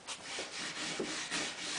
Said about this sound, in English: And I'll take a wire brush,